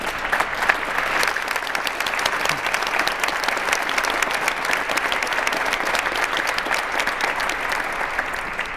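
Spontaneous applause from an audience at the University of Guelph, a broad, sustained wash of many hands clapping at an even level for several seconds.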